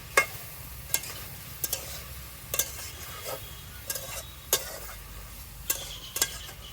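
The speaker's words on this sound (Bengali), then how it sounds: "এবার একটু নাড়াচাড়া করে নেব" Malabar spinach stems with salt and turmeric stirred in a pan, a spoon scraping and clinking against the metal in short repeated strokes roughly every second over a low steady background, close and fairly quiet.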